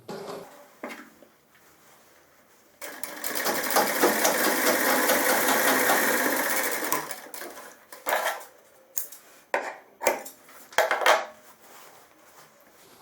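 A sewing machine stitches the body of a shirt for a large belly, a steady, dense whirr running for about four seconds, then trailing off into short, scattered bursts and handling clatter.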